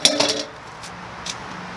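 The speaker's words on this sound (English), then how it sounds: "Alright, so in go the water pan" Metal water pan set down inside a smoker before a beef shoulder cook, giving a couple of quick clanking metallic knocks at the start and a faint later clink, close and brief.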